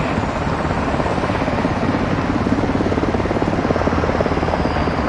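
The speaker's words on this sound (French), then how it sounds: "Nikolai, bloquez avec l'hélico." A helicopter in the Call of Duty Modern Warfare 2 video game drones with a loud, steady rotor chop that fills the whole stretch without letting up, heard close and alone.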